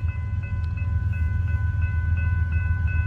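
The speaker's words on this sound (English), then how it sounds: "Guys, we got a train coming. Union Pacific." A long Union Pacific mixed manifest freight train hauled by six locomotives passes over rail diamonds, producing a steady, heavy low rumble with sustained tonal engine hum and no voices.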